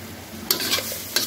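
Frozen bean seeds being stir-fried in a pan, with a steady low sizzle and two sharp bursts of stirring or fresh hiss partway through.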